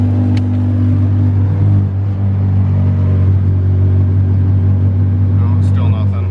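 A Honda Civic D16Z6 engine with a Brian Crower cam, tuned for E85 flex fuel, running unevenly on a dyno: a loud, close, low droning rumble that wavers and surges, with a few faint clicks near the end.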